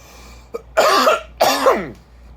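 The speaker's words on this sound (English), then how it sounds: "I got this cough." Two harsh, chesty coughs in quick succession, close and loud, with a short quiet breath before them.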